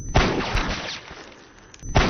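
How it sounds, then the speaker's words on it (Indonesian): Police gunfire in a film scene: two sharp, loud shots, one at the start and one near the end, separated by a dense rumbling reverberant wash. "sementara Gautam mendapat tembakan dari pihak kepolisian tapi tidak sampai membunuhnya"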